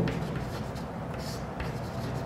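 Chalk scratches and taps on a classroom board as a teacher writes, short scraping strokes coming in quick bursts at close range, fairly quiet with no voice over it.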